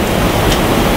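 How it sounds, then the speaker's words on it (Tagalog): A dense, continuous hiss of heavy rain pouring down, loud and steady with no pauses or voices. "Lakas ng ulan, no?"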